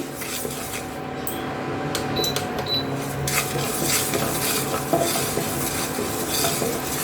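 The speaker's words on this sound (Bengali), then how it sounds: "আমি এর মধ্যে ডালটা ভেজে নিচ্ছি।" Mung dal dry-roasting in a hot kadai on an induction cooktop: a spoon scrapes and stirs, clinking against the pan with a soft rustle of lentils and faint sizzle, close and continuous with no talking.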